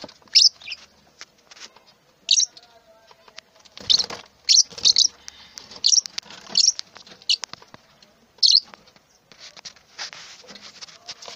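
Lovebirds in a breeding cage give sharp, high chirps in short scattered bursts, close and clear against a quiet background with light rustling between calls.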